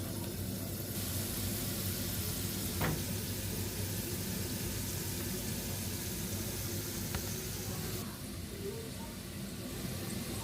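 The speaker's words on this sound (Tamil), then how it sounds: "ஓகே, அவ்வளோத்தையும் பொரிய விட போகிறேன். ஓகே, அது பொரியட்டும்." Pieces of elephant foot yam deep frying in a pan of hot oil, giving a steady, dense sizzle and bubbling hiss that runs without a break at moderate loudness, with a faint background rumble and no talking.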